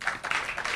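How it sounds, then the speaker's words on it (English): A studio audience applauds at the grand finale of a home-themed show, a short, steady patter of many hands with no voices over it. "deserve a very big round of applause"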